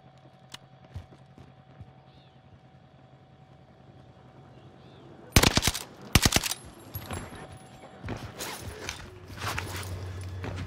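Bursts of NZ-41 rifle fire in the video game Warzone on Rebirth Island, two sharp, loud clusters of rapid shots midway, then scattered shots and game noise toward the end.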